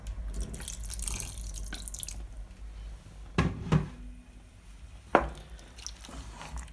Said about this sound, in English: I think I'll add just a little bit more water.